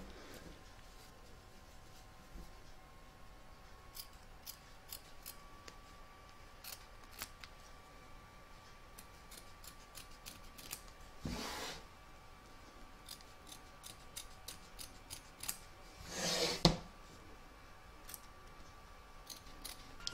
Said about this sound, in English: You're now going to trim up the excess fabric from around the shaft,